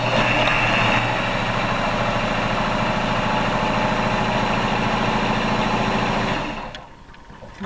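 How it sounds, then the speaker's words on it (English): A sewing machine stitches around the edge of a fabric runner, its motor whirring loud and steady for several seconds before winding down and stopping near the end. "Turn the machine as I sew the corners."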